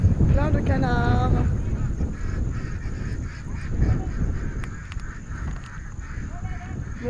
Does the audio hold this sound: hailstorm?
no